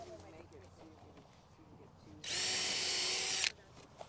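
A power drill drives fasteners into a compost bin, one loud whirring burst of just over a second close by, after quieter knocks and handling sounds.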